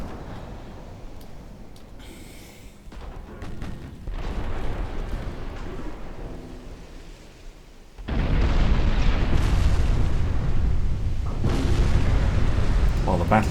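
Armour-piercing battleship shells strike enemy ships in a naval video game, producing rumbling, overlapping booms that grow much heavier and more sustained partway through, with a dense roar of impacts continuing to the end.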